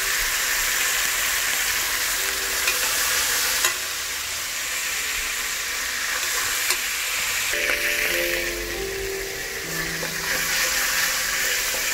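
Garlic paste fries in hot oil in a pan for plain pulao, a loud, steady sizzle with occasional scraping and stirring sounds close by.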